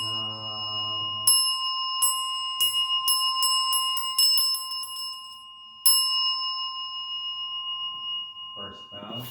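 A small bell rings during a Zen service chant, opening with a low sustained chanting voice before a quick run of bright metallic strikes that speed up like a roll-down, followed by a later single strike and faint voices at the end.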